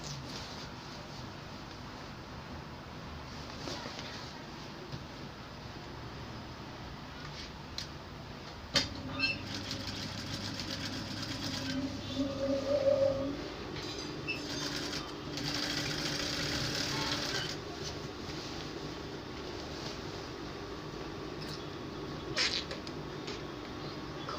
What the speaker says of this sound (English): mash them together, then you can continue sewing